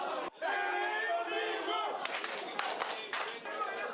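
Restaurant and pub patrons watching a Korea vs Uruguay football match on a big screen roar together in a sustained crowd cheer, then clap and chant in rhythmic bursts.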